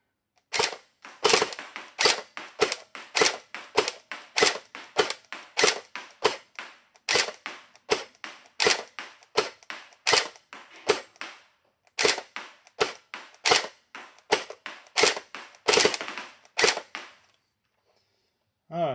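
An X-Force Tactical ACR airsoft rifle fires a long string of sharp, close shots at a quick, slightly uneven pace, with occasional doubled shots and brief pauses before the firing stops.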